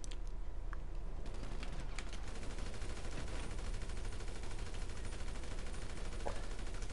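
Gunfire in GTA, with rapid bursts of shots over a dense, steady layer of game noise. Sharp reports stand out near the start and again toward the end.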